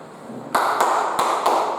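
Sharp, close hand claps from a class clapping routine: a quiet lead-in, then two pairs of crisp claps in an even rhythm.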